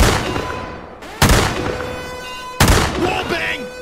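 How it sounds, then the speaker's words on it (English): In the horror video game Poop Killer 8, two sharp, loud gunshots ring out about a second and a half apart as a door is shot open, each blast followed by a decaying echo and rattle, with no speech over them. "I'm gonna shoot the door open."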